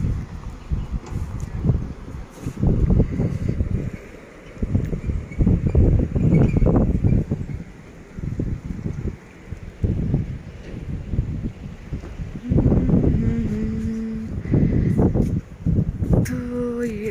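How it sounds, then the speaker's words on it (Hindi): Cold wind blowing in the snowy mountains near Manali, gusting in strong buffeting waves against the microphone, with brief lulls and some faint distant tones near the end. "हवा चल रही है ठंडी ठंडी यहाँ पे।"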